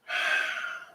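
One deep, airy breath in a vinyasa yoga class, a single close exhale lasting under a second that fades out, heard alone without talk.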